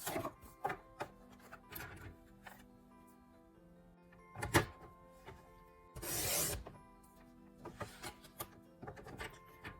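A paper trimmer slices through a stack of card stock for Christmas cards, with a sharp swishing cut amid scattered taps, rubbing and handling of paper close by.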